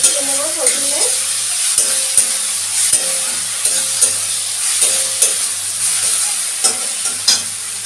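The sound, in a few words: garlic sautéing with onion in a pan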